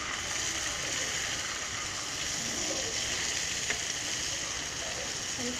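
Meat sizzles and fries in a hot pan with a steady, dense crackle that holds at even loudness throughout, close by and without talk.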